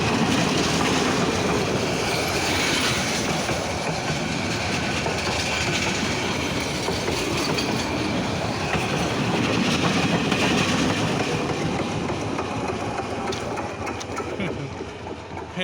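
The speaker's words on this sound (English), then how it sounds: "I don't know which train this one. Train is coming." A train rumbles steadily past nearby, wheels clattering over the rails in a continuous loud roar that eases slightly toward the end.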